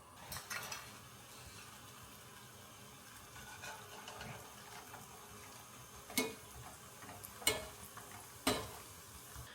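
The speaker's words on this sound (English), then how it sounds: "we'll drop 2/3 cups of walnuts in the oil" A few spoonfuls of walnuts go into oil heated to 325 degrees for walnut shrimp, giving a soft, steady frying hiss. Three sharp clinks of a utensil against the pot come near the end, and no one speaks.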